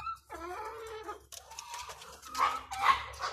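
A hen sitting inside a nesting spot to lay eggs gives a few soft clucking, cackling calls up close, with some louder squawks toward the end and a low background hum.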